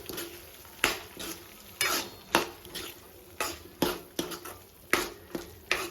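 Prawns stir-fried in a sizzling masala for prawn curry, a spoon scraping and clanking against the pan in irregular strokes over a steady frying hiss, close and fairly loud.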